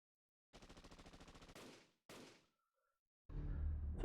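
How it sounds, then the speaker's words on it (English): Gunfire in a Fate/Grand Order story scene set inside Chaldea: a rapid automatic burst of evenly spaced shots, then two sharp, decaying blasts, a brief faint tone, and a loud rumbling impact at the end. "Senpai, those were gunshots, but who's shooting inside Chaldea?"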